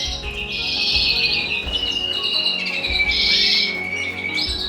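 Native birds in a home aviary, including redpolls, make repeated loud chirps and squawks in short bursts close by, over a low background murmur.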